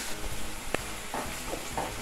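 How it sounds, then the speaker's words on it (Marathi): Garlic and green chilli sautéing on a low flame for a dal khichdi tadka give a soft, steady sizzle, broken by a few light clinks and scrapes of stirring. "हे सर्व 2 ते 3 मिनटं लो फ्लेमवर परतून घ्यायचं"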